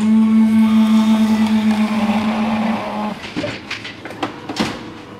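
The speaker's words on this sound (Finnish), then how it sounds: "Sitten täältä valitaan sitten mieluinen juoma, kaakaojuomat, chokokahvi käynnistä." A drink vending machine brews chocolate coffee with a steady, loud motor hum that gives way to clicks and clunks near the end.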